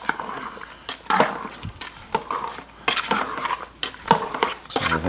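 Spoon stirring stewed tomatoes with oregano, thyme, garlic, oil and onions in a pot, giving repeated close scrapes and clinks against the pot in an uneven rhythm, with a voice talking alongside.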